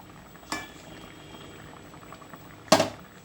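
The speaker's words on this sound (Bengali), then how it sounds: "এই দেখুন, আমার তরকারিটা সেদ্ধ হয়ে গিয়েছে।" A light prawn-and-vegetable-stalk curry simmers gently in a pot, giving a faint, low bubbling hiss broken by two brief, sharper clatters.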